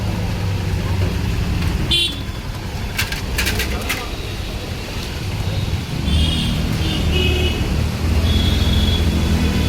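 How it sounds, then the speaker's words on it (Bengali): Busy rain-soaked street traffic in Tollygunge, Kolkata, with car horns sounding in short bursts and a steady rumble of moving vehicles, over a constant wash of road noise. "গাড়িগুলো সব পরপর হর্ন দিয়ে সামনের দিকে এগোচ্ছে।"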